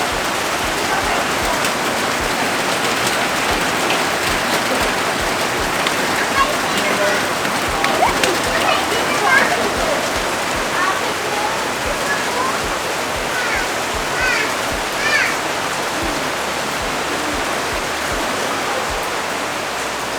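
Steady rain hisses throughout, dense and constant, with occasional louder patters; faint voices can be made out beneath the downpour.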